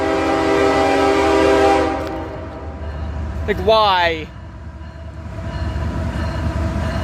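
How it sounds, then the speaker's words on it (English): Coal train rolling past with a steady rumble, its horn blaring a long, loud wailing blast that bends in pitch midway before the rumble carries on; a voice speaks briefly near the start. "It's another coal train 718."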